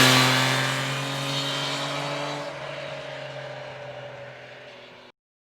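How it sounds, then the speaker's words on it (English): A loud 2021 Triumph Trident 660 triple-cylinder motorcycle engine roars and revs, its exhaust note fading and dropping in pitch before cutting off abruptly. "It's got a really lovely exhaust note to it, which is just so Triumph."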